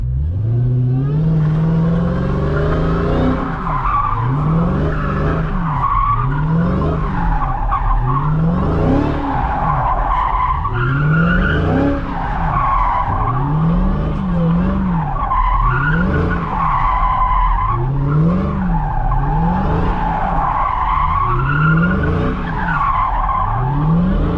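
A 2023 Dodge Challenger Hellcat Jailbreak slides through repeated drifts, its engine surging and falling in a steady rhythm of rising revs while the tires skid and squeal continuously, loud and close throughout with no talking.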